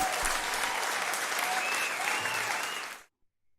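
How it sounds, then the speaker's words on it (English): Audience applause for contestants at an art ball, a dense, steady roar of clapping from a crowd that cuts off abruptly near the end. "Give both contestants a round of applause."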